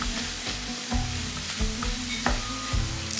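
Onion and leek sizzle steadily in a hot pan, a continuous close frying hiss with a few soft stirring bumps and no talk.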